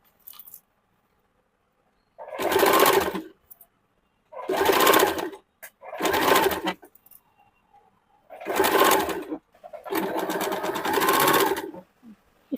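An electric sewing machine stitches a curved sleeve seam on a princess-cut kurti in five distinct bursts, each a loud, close run of rapid needle strokes separated by silent pauses.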